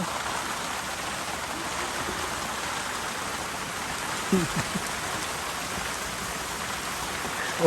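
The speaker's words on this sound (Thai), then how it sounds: "ตอนนี้ฝนก็ตกหนักเลย" Heavy rain pours down steadily, a dense continuous hiss with no break, loud and close.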